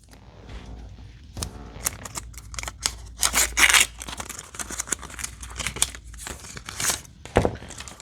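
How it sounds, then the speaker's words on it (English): Paper wrapping being pulled and torn off a small card-sized Ikko Mind One Pro phone box during unboxing: close, sharp crinkles and rips in irregular bursts, loudest in the middle, with quieter rustling between. "We'll pull off the paper."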